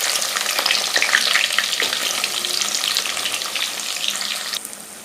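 A clove and a piece of cinnamon hit hot oil in a pan for a duck curry, giving a loud, close, continuous crackling sizzle that holds steady and then eases off slightly at the very end.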